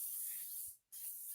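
A can of bat spray hisses in two loud, close bursts separated by a brief pause, with a bright airy spray and no talking.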